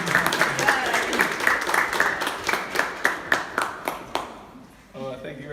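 An audience claps and applauds to welcome a speaker at an art studio event, a burst of many hands that swells, then thins into a few scattered claps before a voice begins.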